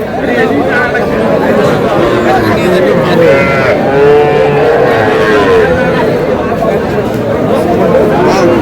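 Cattle moo repeatedly at a busy livestock market in Narsingdi, with bulls and heifers calling in long drawn-out lows over a constant din of chatter and people talking nearby.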